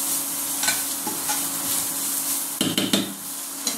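Chili powder and spices fry in a pan for bread upma, a steady sizzle running under several scraping stirs of a spoon, with a cluster of sharper metal scrapes near the end.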